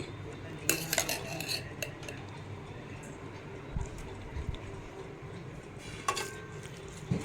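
A spoon scrapes and clinks through a thick paste of coconut, cinnamon and clove in a metal pan, stirring in a few sharp clatters over a steady low kitchen hum.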